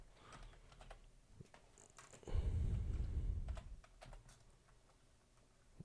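Quick bursts of keystrokes on a computer keyboard as a folder name is typed, close and fairly quiet, with a brief louder thump partway through and no talking.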